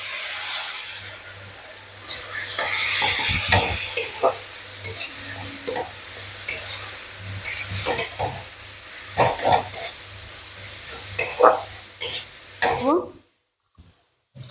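Tilapia sizzles and hisses in hot oil as a wet paste of cumin, coriander and turmeric goes in, with loud spattering bursts and stirring clatter before the sound cuts off abruptly near the end.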